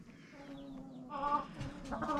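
Barnyard chickens and a rooster on a Bulgarian homestead, clucking and calling in short bursts close by, with a louder run of clucks toward the end and no talking.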